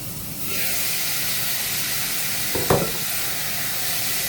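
Beef for a jerk Philly cheesesteak drops into a hot pot and sizzles loudly, with a steady broad hiss and one brief clatter of stirring partway through and no talk.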